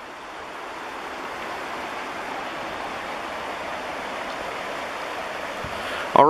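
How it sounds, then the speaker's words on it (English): Rock Creek in Idaho flowing steadily, a broad continuous rush of water, close and even throughout, ending with a brief voice. "or the creek, whatever you want to call this."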